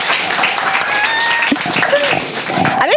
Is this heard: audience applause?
yes